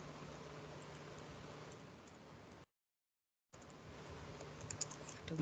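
Steady typing on a computer keyboard at a desk, keys clicking continuously and close, with a brief cut to silence midway before the clatter resumes and grows slightly busier toward the end.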